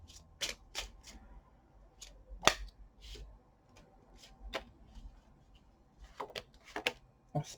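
Tarot cards being shuffled and handled in a quiet room, with soft scattered riffles and sharp snaps of the deck coming in bursts, a louder slap near the middle and a quicker flurry toward the end.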